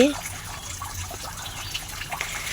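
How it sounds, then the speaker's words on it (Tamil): A thin, thread-like trickle of water splashes continuously into a farm irrigation well below, with a faint voice briefly heard at the start. "இதுதான் கொஞ்சம் மூலம் தண்ணி விழுகுது பார்த்தீங்களா நூல் மாதிரி"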